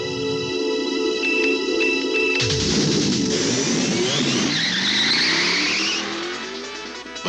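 A Porsche 944 or a Volvo 740 Turbo Wagon races past loudly and close, its engine revving and its pitch sweeping down as it goes by, then fading away, with no talk.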